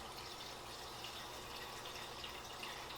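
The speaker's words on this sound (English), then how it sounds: "I get the refrigerator water, just like this." Cold water runs steadily from a refrigerator's water dispenser, a continuous even hiss and trickle filling a container nearby, with no talk.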